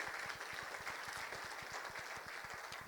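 A church congregation applauds together, a steady wash of clapping with a faint rhythmic low beat running underneath throughout.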